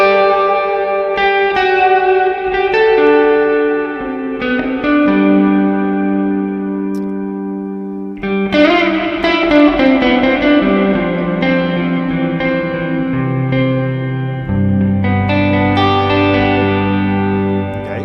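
A Gibson Les Paul electric guitar through a Quad Cortex reverb block after the effects loop plays chords and single notes that ring out with a wide reverb tail, sustained and washy, played alone without any talking.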